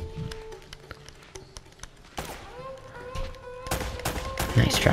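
Gunfire in Uncharted: Drake's Fortune, with scattered sharp shots early on building into dense, rapid bursts of automatic fire toward the end, loud and close over a background of game tones.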